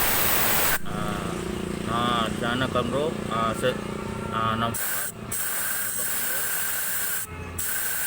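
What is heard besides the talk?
spraying into a clogged Jupiter Z motorcycle oil passage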